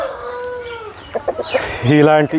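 An Aseel rooster cackles with a drawn-out call, then short clucks follow before a loud, close crowing burst.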